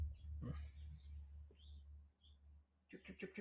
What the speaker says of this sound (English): Can you hear those birds out there?